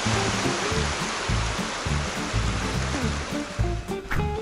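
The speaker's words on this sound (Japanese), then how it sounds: "このずっと歩いてるそばを流れてる川、この渓流がマデリウっていうらしい。" The Madriu mountain stream in the Pyrenees of Andorra rushes steadily close by, a continuous loud watery roar with a voice speaking briefly over it.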